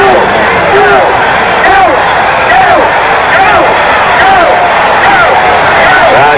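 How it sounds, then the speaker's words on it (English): Dense crowd noise in the stands during game 3 of the 1974 World Series between the A's and the Dodgers, a steady roar with rising chant-like yells. A broadcast voice talks over it. "Crowd yelling, go, go in the background."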